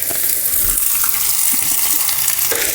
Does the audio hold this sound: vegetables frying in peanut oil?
yes